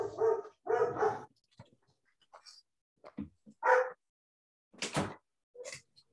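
A dog barks indoors in loud, close bursts: a pair of quick barks, then scattered single barks and yips with short pauses between.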